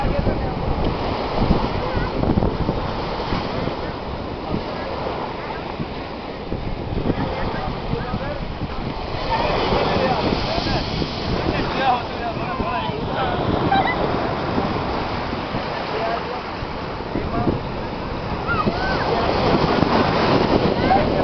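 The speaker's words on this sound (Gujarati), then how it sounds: "આ ભૂગવતો દરિયો છે" Rough, churning sea at the Somnath shore, a steady broad wash of surf with wind buffeting the microphone, continuous and fairly loud for the whole stretch with no voices.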